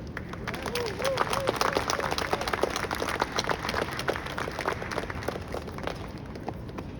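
Audience applause at an interfaith service in Tobago: steady, dense clapping from a crowd fills the whole stretch at moderate distance, with a faint murmur of voices underneath.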